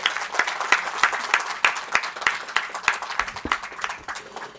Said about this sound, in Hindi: एक बार मैं चाहता हूं कि कसकर आपकी तालियों से उनका